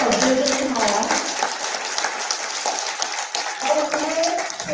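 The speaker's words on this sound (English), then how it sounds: "It is time to give a round of applause for Benjamin Hall." Audience applause at a small business summit, a dense steady wash of clapping from a crowd throughout, with voices and cheering audible over it.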